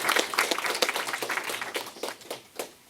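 After the speakers of a panel talk, the audience gives a brief round of dense, steady applause that tapers off near the end.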